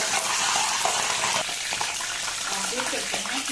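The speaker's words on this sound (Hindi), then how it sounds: "चलिए हम इसको फ्राई कर लेते हैं। तो इसी तेल में हम छड़नी के" Green chillies and curry leaves frying in hot oil for lachha pakora: a dense, loud crackling sizzle continuing throughout, close up, with faint background voice-like tones.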